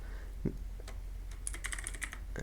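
Fingers typing a word on a computer keyboard, a quick run of light, close key clicks with a faint background hum.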